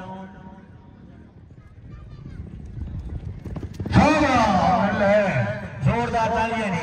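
Horse hooves clip-clop at a tent-pegging (neza bazi) horse event in Lahore, mixed with crowd noise and a loud, strongly pitched voice or music that swells in over the second half.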